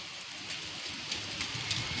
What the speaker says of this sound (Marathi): बघा पाऊस बारीक बारीक झिमझिम चालू आहे.